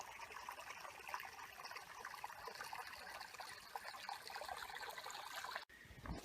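Spring Creek flowing over rocks: a soft, continuous trickle and dribble of water, close and gentle, with a brief rustle near the end and no talk.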